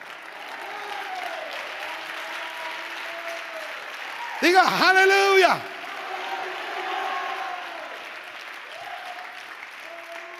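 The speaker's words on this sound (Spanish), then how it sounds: "Las águilas aplaudan al Señor con gozo" Church congregation clapping in steady, continuous applause under a preacher's amplified voice, with a brief loud sung or shouted phrase rising over the clapping partway through.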